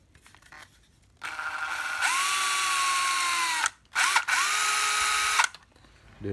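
A used Makita 9.6 V cordless drill whirs loudly at a steady pitch, stops briefly, then spins up again, close and with no voices.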